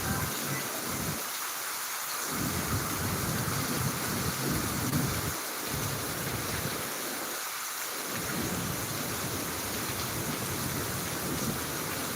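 Heavy monsoon rain pours in a steady, loud hiss, and thunder rumbles through it in deep low swells at a couple of points, with no voices.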